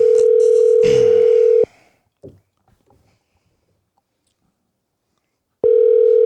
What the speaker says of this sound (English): let me see if this guy will pick up the phone